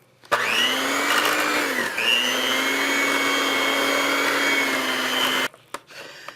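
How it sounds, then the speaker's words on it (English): An electric kitchen mixer kneading a large batch of noodle dough with flour, a loud steady motor whine that dips briefly under load, then cuts off abruptly, followed by a few faint knocks. "I could run the mixer in this a little bit to help."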